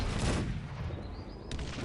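Naval cannon fire in the strategy game Cossacks 3: a dense rumbling volley opens, then fades, and a sharper boom cracks out near the end. No one speaks.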